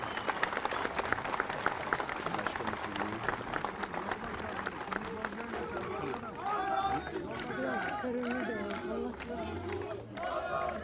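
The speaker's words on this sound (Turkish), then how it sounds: "onlara da yürekten alkışlamanızı rica ediyorum." A large crowd at an outdoor public gathering for a mayor in Beykoz, Istanbul claps and cheers continuously, a dense wash of applause with voices mixed in throughout.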